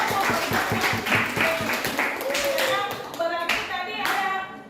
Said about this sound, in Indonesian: Berikan tepuk tangan dulu.